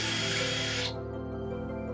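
A power drill bores a hole in a wall behind an electrical outlet while installing a Brilliant smart home control, running loud and close for under a second before cutting off, leaving a low hum.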